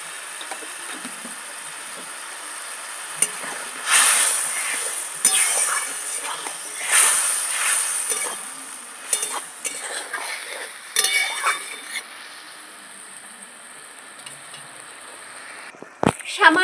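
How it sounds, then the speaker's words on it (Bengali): A spice masala with cumin powder and a little water being stirred and fried in a pan for an onion-free aar fish curry, with a steady sizzling hiss broken by several louder scraping stirs, close up, ending in a sharp knock. "মশলাটা খুব ভালো করে কষিয়ে নিয়েছি"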